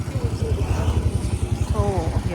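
A motorcycle rumbles steadily on a rough, dusty road, its low pulsing engine throbbing close throughout while people talk over it.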